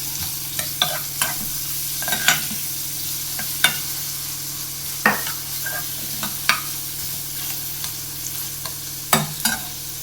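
Two medium onions with garlic sauté in a pan for methi masala, a soft continuous sizzle punctuated by a dozen or so spatula scrapes and taps at an uneven pace, close and without speech.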